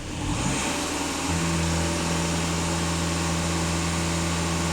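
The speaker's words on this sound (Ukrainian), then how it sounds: "Газ в пол даю." Skoda Kodiak 2.0 TDI EA288 diesel engine revved at full throttle, a loud sustained drone that climbs and then holds a steady high pitch throughout.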